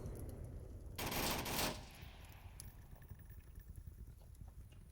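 A loud burst of gunfire from the VR shooter Onward erupts early in a competitive esports match, a dense volley lasting under a second, then fades into low rumbling game ambience with no voices.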